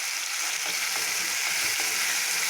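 Tomatoes and salt fry in a hot pan while a chicken liver dish is being made, giving a steady, close, continuous sizzle with faint crackles and no voices.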